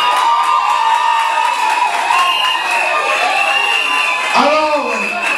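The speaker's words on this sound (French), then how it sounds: "Des applaudissements." Wedding guests at a civil marriage in Gabon clapping and cheering loudly, a continuous crowd roar with whoops, while voices call out over it.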